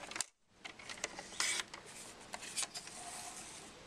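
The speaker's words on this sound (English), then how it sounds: "put it into the trimmer, and you're going to cut at 5 1/4 and then 5 1/4 again" A paper trimmer slicing through patterned cardstock: a few quick, crisp cutting strokes and paper handling rustles, close and fairly soft, with a brief pause near the start.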